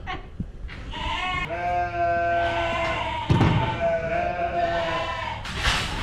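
Lambs on a farm at weaning time bleat loudly and close by, their long wavering cries overlapping almost without pause, with a brief thump partway through.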